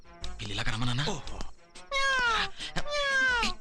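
In a Telugu comedy film scene, a man imitates a cat with drawn-out, wavering meows, several in succession, loud and close, mixed with bursts of his voice.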